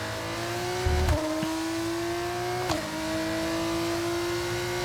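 An F1 car engine in the racing game F1 25 on a wet track holds a steady, high drone and drops pitch twice at short gear-change breaks. The engine plays alone with no talk.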